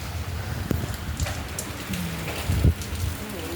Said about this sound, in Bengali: দেখো কি বৃষ্টি, কি ঝড়, দেখো বিদ্যুৎ চমকাচ্ছে